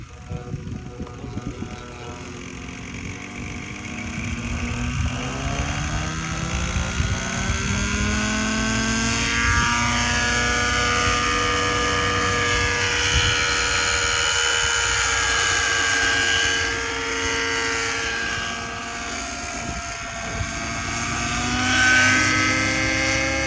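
An XL Power Nimbus 550 nitro RC helicopter with an OS 55 engine and 580 mm blades spools up and flies, a loud sustained engine whine with shifting pitch and rotor buzz running steadily close by.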